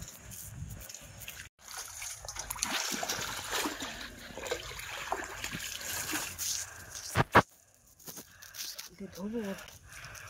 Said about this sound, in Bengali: এখন এর গিয়ে একটু জল দিয়ে ধোবো।